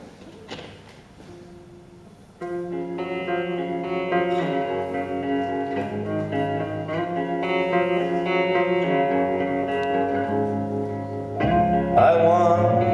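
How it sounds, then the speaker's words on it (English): Electric guitars being tuned on stage before a song, with distorted, reverberant sustained notes and bends droning loudly and continuously, a thin plucked start swelling into a thick layered wash. "This is just them tuning their guitars."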